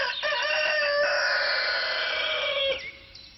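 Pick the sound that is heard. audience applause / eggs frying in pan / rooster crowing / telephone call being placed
rooster crowing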